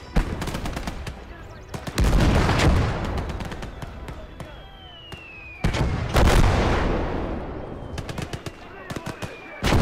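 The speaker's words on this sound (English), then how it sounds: "mortar fire. I guess that's enemy." Mortar fire in a World War II game amid hedgerow fighting, with loud booming impacts that ring out in long rumbling decays, broken by bursts of rapid gunfire crackling close by.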